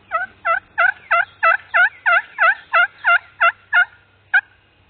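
A wild turkey gobbles about a dozen times in a steady, evenly spaced series, then gives one last gobble after a short pause. The calls are loud and clear over quiet early-morning woods during a youth turkey hunt.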